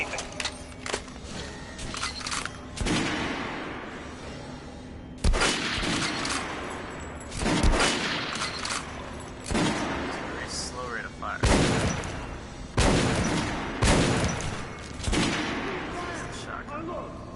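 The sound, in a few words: gunfire in the video game Metro: Last Light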